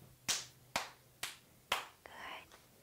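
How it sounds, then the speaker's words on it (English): Four sharp hand claps land in an even rhythm, close and crisp, followed by a soft whispered voice. "And four claps."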